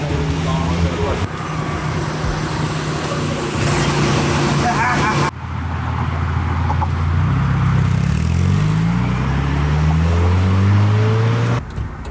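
A manual-transmission car drives through New York, its engine and road noise steady and close, with a gear change midway and revs climbing through the gear afterward; traffic noise and voices sit in the background.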